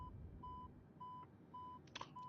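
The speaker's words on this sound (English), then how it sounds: "We can shut off our warning alarm." In the cockpit of an Alaska Airlines airliner in Microsoft Flight Simulator, a warning alarm beeps in short evenly spaced tones, quiet and repeating, with a brief click near the end.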